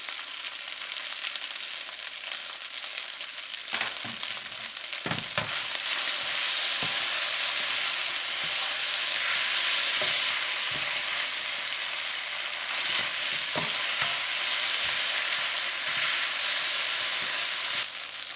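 Bulgogi beef stir-fried with sesame oil in a pan for udon noodles gives a loud, steady sizzle close by, with scattered scraping and knocking of a utensil stirring through it, and no talking.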